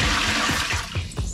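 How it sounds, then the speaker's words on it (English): A small boat bilge pump, tested by tilting a container of water, pushes water out in a steady rushing, gurgling stream with a few soft splashy pulses near the end. "So I'm gonna tilt this up and that will turn the pump on."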